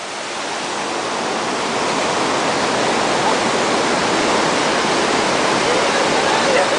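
Waterfall at Cachoeira Monte Crista in Santa Catarina, a steady, loud, broadband roar of falling water filling the whole clip with no break, with no clear voices rising above it.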